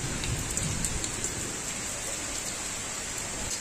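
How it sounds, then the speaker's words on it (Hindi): Heavy rain pours down in a village during a storm, a constant dense hiss of drops on surfaces close by, with no voices over it. "बारिश देखिए बहुत, बिजली भी चमक रहा थोड़ा थोड़ा यहाँ पे देखिए"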